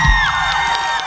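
Concert audience at a live show cheering and whooping, a brief loud burst of crowd shouts over a sustained roar.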